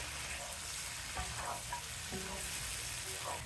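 Chillies, curry leaves, cashews and kasuri methi fry in a hot pan, a steady broadband sizzle with a few brief crackles, close and continuous throughout.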